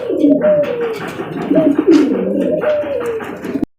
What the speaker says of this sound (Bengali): এই দেখেন খুবই তাজা কবুতর